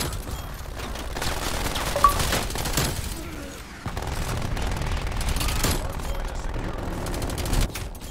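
An LC10 submachine gun fires rapid bursts in the shooter game Black Ops Cold War, loud fusillades of automatic fire repeating over several seconds with brief pauses between bursts, under a busy game soundscape.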